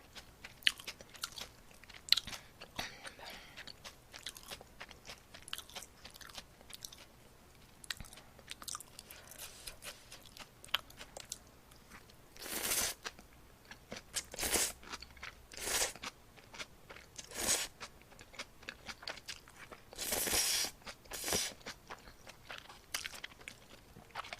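Someone eating bibim-myeon cold noodles during a mukbang, with quiet scattered chewing and slurping and occasional louder bursts of bites and rustles, close and sparse, with no speech.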